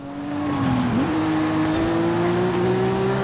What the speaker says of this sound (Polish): Ferrari na drifcie